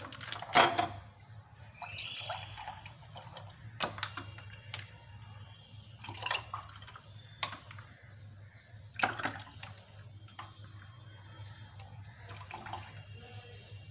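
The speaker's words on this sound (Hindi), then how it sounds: "ये देखिए अब हम लोग डालते हैं ग्लास में" Falsa (Grewia asiatica) juice seasoned with black salt is poured into a glass, making soft intermittent splashing and trickling in a few separate bursts over a low steady hum, close by and with no speech.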